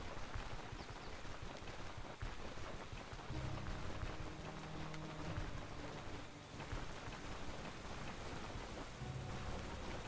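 Steady, dense rain pours down in a downpour in the video game Stoneshard, with a broadband hiss filling the whole stretch and low rumbling layers coming and going underneath.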